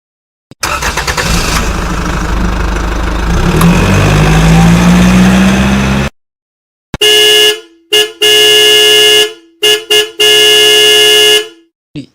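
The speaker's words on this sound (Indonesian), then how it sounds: "Malah ngelakson terus." A car horn on a toll road sounding in several sharp, loud honks of varying length after a stretch of steady engine noise and rising revving.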